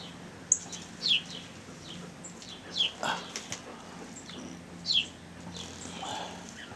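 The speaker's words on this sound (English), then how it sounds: "My birds are yelling at me." Several short, sharp calls from pet birds ring out at intervals over a quiet background, shrill and fairly close, with brief pauses between them.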